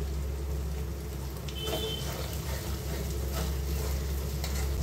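A few raisins fry in hot oil left from cooking chicken for chicken polao, a steady close sizzle with light stirring, heard alone under a constant low stove hum.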